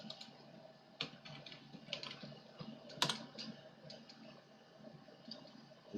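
Typing on a computer keyboard, close and quiet, with irregular key taps and one sharper clack partway through, no speech over it.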